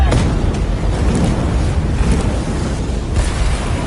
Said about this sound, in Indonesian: kemudian membuat ledakan yang begitu dahsyat.